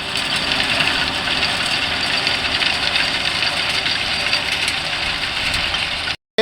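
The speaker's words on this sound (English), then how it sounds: "Here we've got a JCB fast track, which is an 8310." A 2014 JCB Fastrac 8310 tractor runs steadily while drilling wheat with a small drill on the back, its engine a constant mid-pitched drone close by with no speech, cutting off abruptly at the end.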